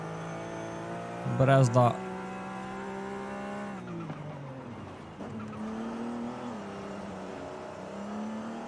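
BMW M4 GTS in the racing game Forza: a steady engine drone with a sharp high rev burst early on, then the engine note shifting through gears and climbing again, under someone talking throughout.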